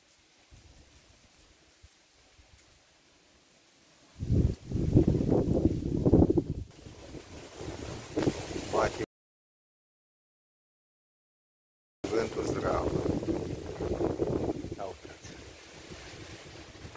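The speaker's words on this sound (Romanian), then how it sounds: "Deci vânt bate." Gusty wind buffets the microphone in rough, rumbling bursts, dropping out briefly before blowing strongly again.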